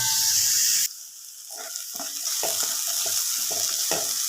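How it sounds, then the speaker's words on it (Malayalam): Onions with salt sauté in a pan, making a soft hiss and sizzle broken by short scraping stirs. A louder burst at the start drops away before the stirring begins. "ഇങ്ങനെ തന്നെ കുറച്ച് നേരം ഒന്ന് വഴറ്റിയെടുക്കാം"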